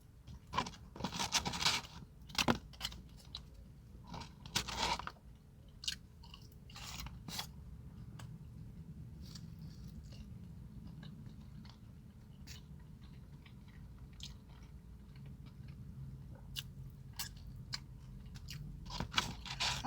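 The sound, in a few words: chewing Applebee's riblets and fries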